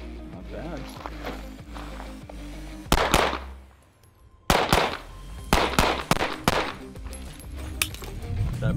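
A Mossberg MC2C 9mm pistol with a 15-round magazine firing outdoors, a string of sharp, loud individual reports at uneven intervals after someone speaks, each shot ringing out briefly.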